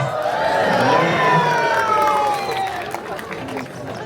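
A crowd cheers and shouts at a seal show as a seal tries to climb back in, with excited children's voices and whoops rising and swelling, then easing off.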